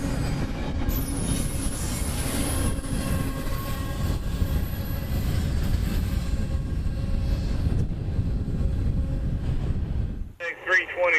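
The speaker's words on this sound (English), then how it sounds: "our last train of this eventful day has come, calling as I-17810, intermodal out of the Winter Haven Intermodal Logistics Center" An intermodal freight train out of the Winter Haven Intermodal Logistics Center rolls past in Central Florida with a loud, continuous rumble and high wheel squeal, the roar holding steady before dropping away as a voice comes in at the very end.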